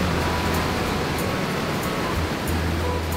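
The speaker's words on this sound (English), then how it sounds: "It is an intricate waterfall consisting of several twists and drops." Chippewa Falls, an intricate waterfall of twisting drops, gives a steady, broad roar of rushing water, loud and unbroken throughout with no voices.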